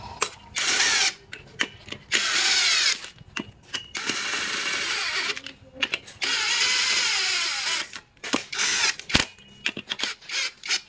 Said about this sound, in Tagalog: Hindi po sinasagad pag gamit ko yung impact tool.